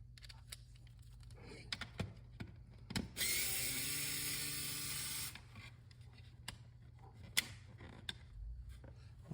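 A Phillips screwdriver unscrews screws from a GameCube console, giving sparse close clicks and ratcheting ticks, with a sustained whirring burst lasting about two seconds in the middle.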